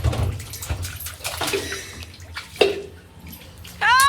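A child plays and splashes in water at home, with irregular close splashes and drips, a brief burst of running or pouring water near the end.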